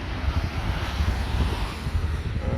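A Transavia Boeing 737-800 taxiing at Orly airport produces a continuous, fairly loud rumbling roar mixed with wind buffeting, steady throughout with no speech.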